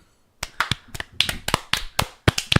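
A single person claps by hand in an irregular, uneven rhythm, about a dozen sharp close claps spaced unevenly after a brief silence, with no talking.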